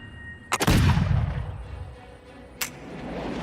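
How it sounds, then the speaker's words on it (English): A flintlock musket firing a .69 caliber ball: one loud, close, booming shot with a rumbling tail that slowly decays, then a brief sharp click or snap a couple of seconds later. "First up, the musket with the .69 caliber ball."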